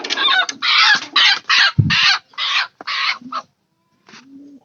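A chicken gives a series of harsh, loud squawking calls in quick bursts, close by, followed by a softer trailing note and brief quiet.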